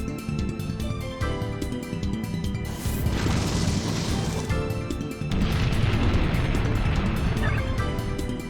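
The Explosion move in the Pokemon Colosseum video game, a sustained roaring blast that swells and rumbles for several seconds over battle music, loud and dense with a second surge partway through.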